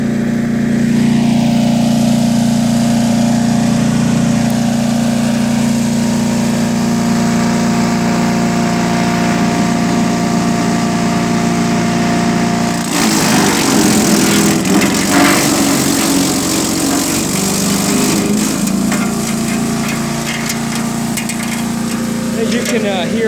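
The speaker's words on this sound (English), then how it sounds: "As you can hear, the engine does kind of bog down on the really tough stuff," A DR 208cc chipper shredder engine runs loud and steady, then strains and bogs down as it chews through a long tree limb, with crackling, grinding wood noise breaking in partway through.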